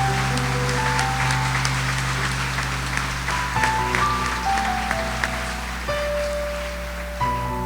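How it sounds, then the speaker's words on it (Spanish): A church congregation applauds for the men, a busy spread of clapping over a steady hum and sustained organ-like tones, with scattered louder claps. "Un aplauso para estos varones que se van a esforzar."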